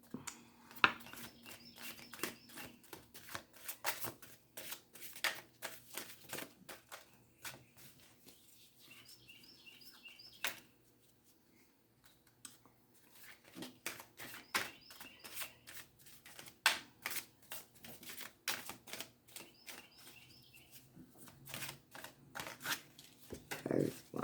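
Large angelic oracle cards are shuffled in repeated bursts of quick riffling slaps and flutters, separated by short pauses, close and crisp.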